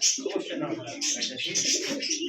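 Pigeons cooing at a pigeon farm, overlapping close throaty coos and bird calls running continuously, with voices mixed in.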